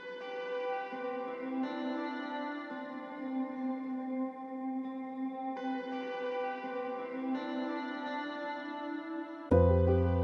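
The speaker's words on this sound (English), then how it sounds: "So the first one is this tremolo kind of sound." A sustained, echoing guitar chord for a lo-fi beat in FL Studio pulses with a wavering tremolo, shifting between a few chords before a sharp low thump at the very end.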